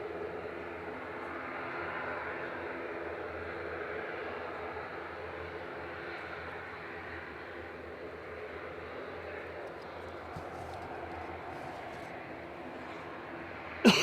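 An ATR 72-600 turboprop lines up on runway 23 left at Manchester Airport, its engines giving a faint, distant, steady drone that holds evenly throughout.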